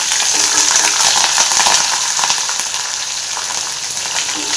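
Lemon rice being fried in a pan, a steady close crackling sizzle with light stirring scrapes that holds loud throughout and eases slightly toward the end.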